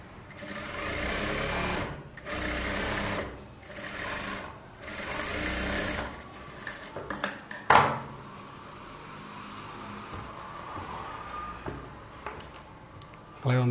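An electric sewing machine stitching fabric for a bridal Aari blouse runs in several steady whirring bursts with short pauses between them, close and clear, followed by quieter rustling and handling noise.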